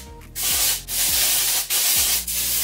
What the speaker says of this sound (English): I'm gonna go in with this Orbe Wave and Shine Spray.